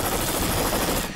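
A helicopter holds position near high-voltage power lines during live-line barehanding repairs, its rotor throbbing loudly and steadily up close for a brief moment, with no talk.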